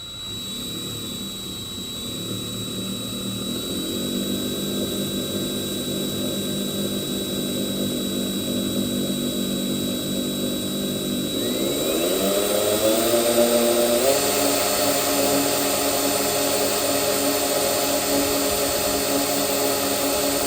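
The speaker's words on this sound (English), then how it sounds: "I'm just going to allow the drill bit to do its job" A power drill whines continuously as it bores into the metal body of a 1970 Plymouth Cuda, its pitch climbing partway through as it bites, loud and close with no talking.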